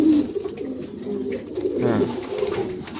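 A female Lahori pigeon coos in a steady run of low, soft, throaty calls, close and clear with no talking over them.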